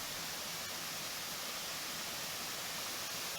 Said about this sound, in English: This is the top of the waterfall, by the way.